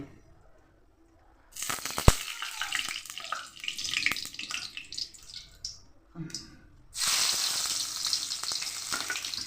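Mustard oil hitting a hot wok (kadai) while cooking ghugni with whole cumin and garam masala: after a quiet start, a loud broadband hiss and sizzle rises, briefly dips, then returns steady and strong near the end.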